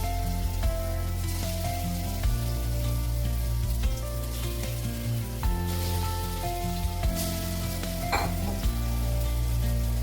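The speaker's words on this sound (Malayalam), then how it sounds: "എന്നിട്ട് നന്നായിട്ടൊന്ന് ഷാലോ ഫ്രൈ ചെയ്തെടുക്കുക until light golden brown colour" Marinated chicken pieces shallow fry in sunflower oil in a pan, giving a steady close sizzle and bubbling with occasional utensil scrapes and spits.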